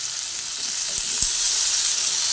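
Papaya and potato pieces fry together in a pan with Kashmiri chili powder, a loud, steady sizzle and hiss close up, with a couple of faint soft knocks and no talking.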